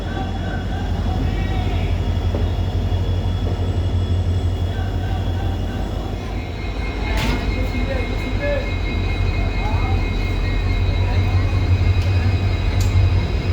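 A train stands at a station platform with a steady low idling rumble and hum, plus faint scattered platform noises and occasional brief clanks, with no passengers boarding.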